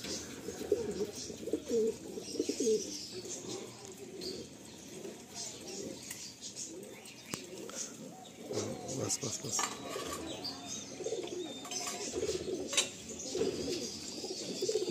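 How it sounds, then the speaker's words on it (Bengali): Domestic pigeons coo softly and continuously inside a loft, a low murmuring chorus with faint clinks and shuffling, quiet and steady throughout. "বাহ, খুব সুন্দর, খুব সুন্দর পায়রা।"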